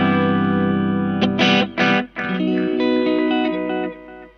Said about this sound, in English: I think that's the best sounding delay on there